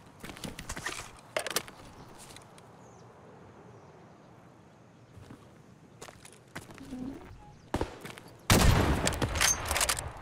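Gunfire rings out in Escape From Tarkov in several separate bursts: sharp cracks early on and a louder close volley near the end, with quieter stretches of footsteps and movement between them.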